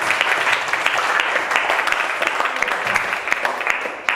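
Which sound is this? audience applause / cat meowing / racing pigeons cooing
audience applause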